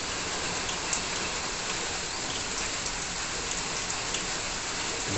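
Steady rain falls outdoors, a uniform, hissing wash of countless drops on surfaces, continuous and moderately loud with no pauses or voices.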